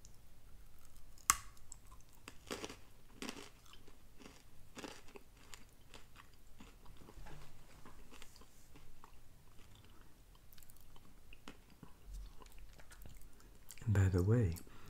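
Close-up crunchy chewing of hard candy, irregular crisp bites and clicks, with brief speech near the end.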